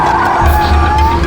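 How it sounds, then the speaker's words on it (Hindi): A car brakes hard on a road, its tyres skidding and squealing loudly and continuously for a moment as it comes to a stop, with no talk over it. "एक मिनट, गाड़ी रोको।"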